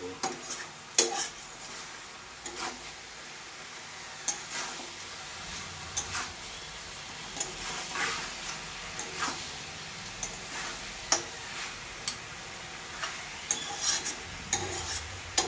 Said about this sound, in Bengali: এইটা এখন আমি খুব সুন্দর পটপটা ভাজা করব।